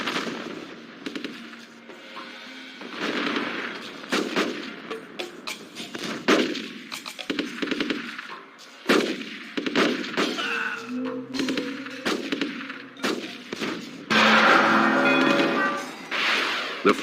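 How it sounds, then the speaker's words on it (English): A Rise of Nations battle fills the air with constant gunfire, machine-gun bursts and heavy artillery booms as German tanks tear apart a French army. The shots crack loud and dense, with no pause. "The French were not prepared to deal with the German tanks, and their army is getting torn apart."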